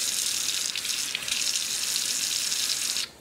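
Tap water runs steadily into a plugged sink during home cleaning, a continuous close hiss and splash that cuts off abruptly near the end.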